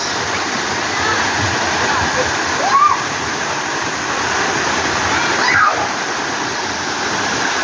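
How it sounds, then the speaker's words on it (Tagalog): Balite Falls in Amadeo, Cavite pours in a steady, loud, broadband roar of falling water that never lets up, with faint bird calls and voices barely surfacing over it. "Dito lang to sa Amadeo, Cavite. Balite Falls."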